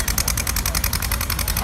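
A tractor engine chugs close by with a fast, even pulsing rhythm, loud and continuous throughout.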